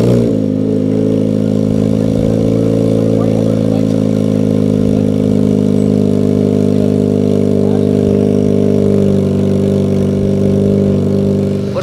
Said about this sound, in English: going to do a cold start with the silencer